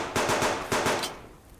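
Pistol rounds fired into the air in the video game Subsistence, about six sharp shots in quick succession with a short gap midway, loud and close, fading into a brief tail.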